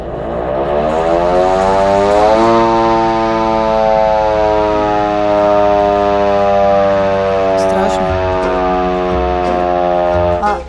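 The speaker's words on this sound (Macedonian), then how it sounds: "Това е една сирена. Искате ли да я чуете?" A loud, sustained mechanical siren wails close by, its tone rising and then holding a steady drone for about ten seconds, with a brief clatter near the end.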